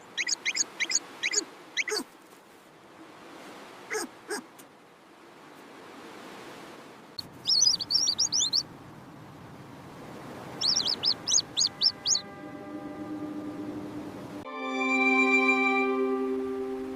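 A cartoon duckling on a beach chirps in quick bursts of high tweets. The chirps come in separate clusters over soft ambient noise, and sustained tonal sounds enter near the end.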